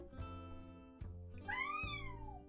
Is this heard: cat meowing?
yes